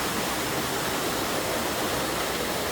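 Strong, rushing stream water along a hiking trail, a steady broadband roar that fills the whole clip without a break, close and loud, with no voices over it.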